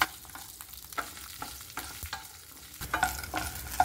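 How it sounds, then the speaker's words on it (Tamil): Shallots, ginger, garlic and dried chillies sauté in a pan for mint thuvayal, with a steady soft sizzle and repeated scraping stirs, fairly quiet and close, with no talk. "வெங்காயம் நல்லா வதங்கிடுச்சு."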